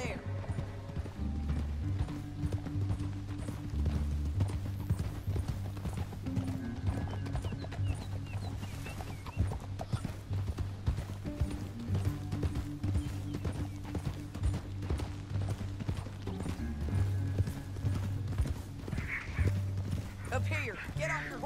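Horse hooves clip-clop steadily in Red Dead Redemption 2, a rhythmic clatter under game music and intermittent character dialogue, with mechanical clicks and a faint whinny mixed in.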